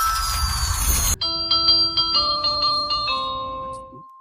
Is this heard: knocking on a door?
no